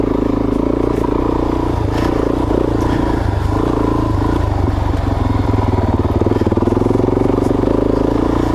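Suzuki DRZ 400 dual sport motorcycle riding single track trail in Idaho, engine droning steadily and loud throughout with rising revs, chattering and scraping of the bike over rough ground.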